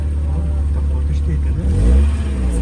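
A car engine at a Bishkek car market starts and revs, a steady low rumble rising into a louder rev near the end, with people talking nearby.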